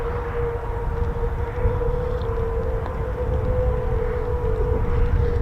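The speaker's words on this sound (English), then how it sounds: "So that's the sound of the Pratt & Whitney" F-15E Strike Eagle jet with Pratt & Whitney F100-229 engines at an air force base, a steady loud droning engine whine with a sustained tonal hum over broad rumbling roar, continuous with no talking.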